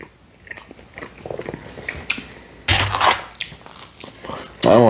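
Close-up bites and chewing of Domino's pepperoni and BBQ chicken feast pizza, crunchy crust bites in short bursts with wet mastication between them, loud and near.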